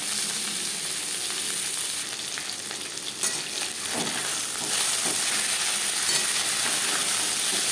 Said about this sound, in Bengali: আমি একবারেই ভেজে নিচ্ছি